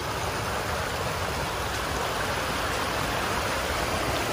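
Heavy rush of water flowing into Big Bear Lake, California, a steady, loud broadband roar like a stream or small waterfall, close and continuous with no pauses or voices.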